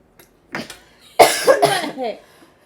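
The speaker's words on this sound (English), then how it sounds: "I need a cough break" A woman coughs loudly and close several times in quick succession, with small throat sounds just before.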